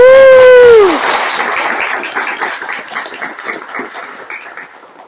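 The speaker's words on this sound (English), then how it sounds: "Will you please give another round of applause for my mom?" Round of applause at a Harvard University book launch, following a loud drawn-out vocal tone and settling into moderate clapping from a small audience that gradually fades.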